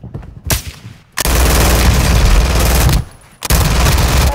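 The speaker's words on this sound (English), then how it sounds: "You are taking effective fire." Bursts of automatic gunfire from Call of Duty Warzone 2.0 DMZ, loud and dense, coming in three sustained volleys separated by short pauses, with heavy low booms underneath.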